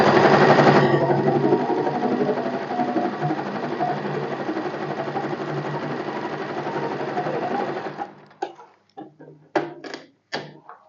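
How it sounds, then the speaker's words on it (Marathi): Sewing machine topstitching close to the edge through the lining of a blouse, a steady loud mechanical whir running continuously, then stopping and giving way to a few separate knocks and clicks. "एकदम कडेने अस्तरवरून दाबशिलाई मारून घ्यायची."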